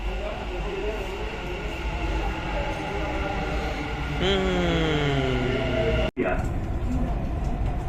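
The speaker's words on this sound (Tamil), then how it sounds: "ட்ரெயின் வந்துருச்சு, இதோ வந்துருச்சு" A Dubai Metro train pulls into a station, its rumble steady beneath a busy platform with people talking, then a rising whine and a descending braking tone as it slows, followed by a short abrupt break.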